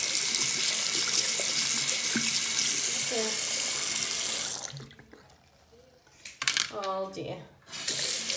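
Tap water runs loudly and steadily into a sink while a lollipop is washed, then the flow is interrupted and sputters back on; a person speaks briefly over the water.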